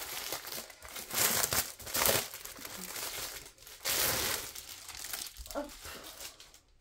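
Plastic packaging from a Gudfel unboxing crinkles and tears in irregular bursts of loud, close rustling with brief quieter pauses between.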